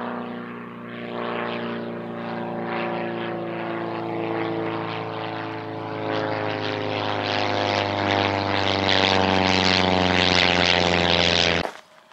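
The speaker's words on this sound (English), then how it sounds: "The plane going over." A propeller plane passes overhead above a hillside fell where gliders and a parasailer fly, its engine drone swelling steadily louder over several seconds before cutting off abruptly, heard alone without talk.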